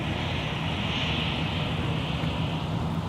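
A KLM Boeing 787 Dreamliner departs Minneapolis–Saint Paul airport, its jet engines producing a loud, continuous broadband roar that holds steady throughout, with no voices over it.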